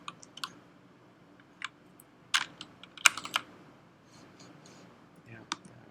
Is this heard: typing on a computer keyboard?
yes